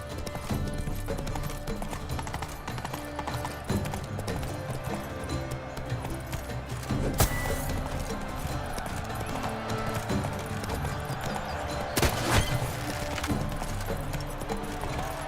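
Roach, Geralt's horse in The Witcher 3, gallops with a steady rhythmic drumming of hooves under a dense wash of game music, with a couple of louder bursts.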